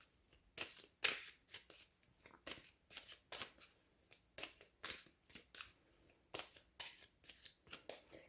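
Tarot cards being shuffled by hand, a long run of quick riffling bursts about twice a second, crisp and close, with no voices.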